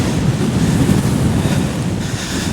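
Strong, steady wind on a hilltop near Mam Tor roars and buffets the microphone in a continuous low rumble, loud and close, with no voices.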